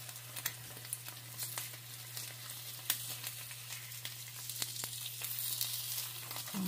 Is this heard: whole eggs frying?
yes